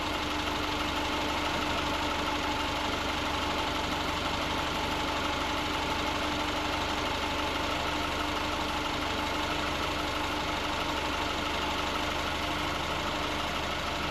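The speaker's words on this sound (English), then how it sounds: "You want to let the engine warm up just like if it was a cold start on a normal day." A 2010 Subaru Forester engine idles steadily while warming up, a constant low mechanical hum with faint ticking that stays even and close for the whole stretch, with no voices.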